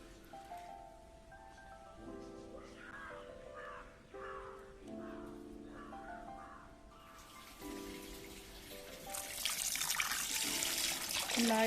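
Running water trickles and splashes as about 700 grams of prawns are washed for a Kerala-style roast. Crow caws sound in the background for the first part before the water grows louder and steady near the end.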